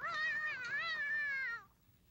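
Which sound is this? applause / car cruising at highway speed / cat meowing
cat meowing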